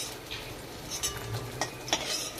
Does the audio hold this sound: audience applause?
no